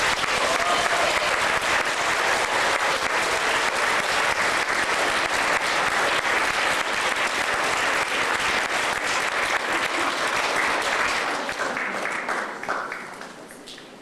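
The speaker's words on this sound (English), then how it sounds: "And let's give them a round of applause" A large audience applauds students who walked that morning, dense sustained clapping filling a hall for about eleven seconds before fading away.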